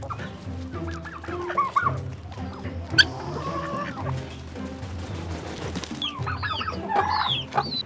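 A decorative-breed chicken on a Racha, Georgia farm clucks steadily up close, with bursts of sharper squawking, a couple of sudden knocks or bangs, and a brief loud rattle midway.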